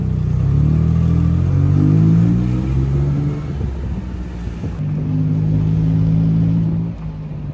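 A tuk-tuk engine drones loudly and close during a ride through Bangkok traffic, rising and easing as the small vehicle accelerates and slows, with no talk over it.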